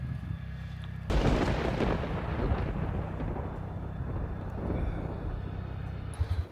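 A sudden loud crack of thunder breaks into a long rolling rumble during a mountain rainstorm on an Idaho trail, fading slowly before a few faint knocks at the end.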